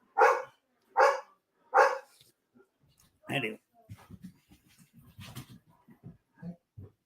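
A dog barks three times in a loud, evenly spaced burst, then gives a sharper yelp and several soft whimpers and snuffles, with a brief word of speech among them.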